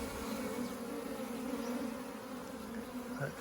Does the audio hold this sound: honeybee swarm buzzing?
yes